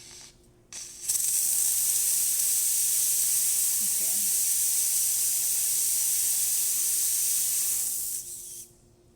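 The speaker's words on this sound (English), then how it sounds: "Now we have the steam." A Zacconi espresso machine's steam wand lets out a loud, steady hiss that starts abruptly, holds evenly for about seven seconds and then cuts off.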